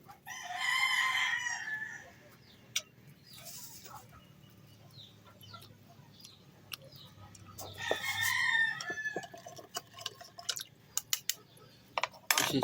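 A rooster crows twice nearby, a long strained call at the start and another later, with clucks and scattered clicks between.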